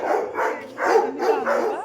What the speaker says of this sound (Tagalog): Ang daming aso. Ang lalaki.